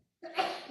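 A single short sneeze bursting out of silence, one sharp breathy blast trailing off quickly, fairly faint and close.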